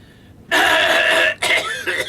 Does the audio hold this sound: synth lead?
no